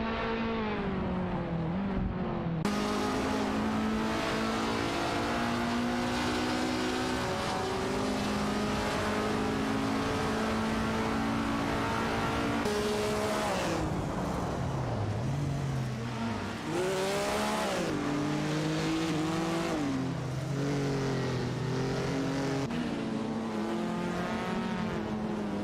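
Race cars in a racing video game roar continuously around the track, with engines climbing and dropping through gear changes and occasional cars sweeping past, loud and close throughout.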